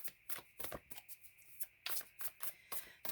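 Tarot cards being handled and shuffled, a run of crisp papery riffles and slaps in irregular bursts, close and fairly quiet, with no talking.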